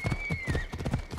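Hooves of a slow-moving horse in the video game Assassin's Creed Odyssey, a steady rhythmic clip-clop of hoofbeats, close and moderately quiet, with a thin high whistling tone over the first half.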